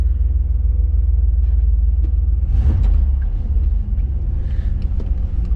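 An old truck's engine runs as a loud, steady low rumble close by, rising slightly as it revs, with faint rattles on top and no talking.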